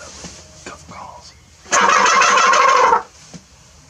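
A turkey call works a gobbler outdoors: a few short yelps, then a loud, sustained raspy burst lasting over a second, followed by faint clucks.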